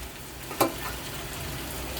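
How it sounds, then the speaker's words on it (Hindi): Brain masala with fresh coriander fries in a pan, a steady close sizzling hiss with one brief sharp clink of a utensil early on, otherwise even and uninterrupted. "तो अब इसको हम और अच्छी तरह से अब भूनेंगे, थोड़ा सा भून लेंगे"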